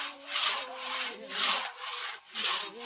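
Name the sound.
sawing firewood with a large saw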